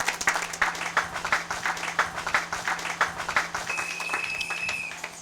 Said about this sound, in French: Acclamez pour la gloire de notre Dieu.